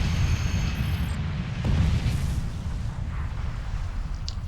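A torpedo strikes an enemy ship in a Star Trek video game, a dense low rumbling boom that swells near the start and rolls on as a heavy, sustained explosion wash.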